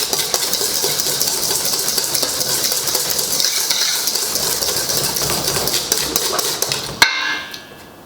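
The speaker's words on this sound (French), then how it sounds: "On mélange bien." Cheesecake batter is mixed in a bowl, giving a loud continuous scraping and stirring sound. It stops abruptly with a sharp clink near the end, followed by quieter clatter.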